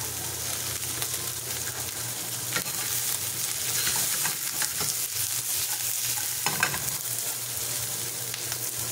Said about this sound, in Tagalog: Pan-fried habanero beef.